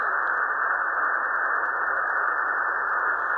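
A weak, distant AM radio station buried in steady hissing static on a car radio band scan, a continuous muffled noise with no clear voice or music rising out of it.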